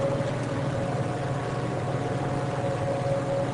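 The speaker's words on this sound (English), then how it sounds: "I now have my spindle running at 750 RPM." A HAAS CNC machine spindle running at 750 RPM, a steady continuous hum with a constant tonal whine over broadband machine noise, level and unchanging throughout.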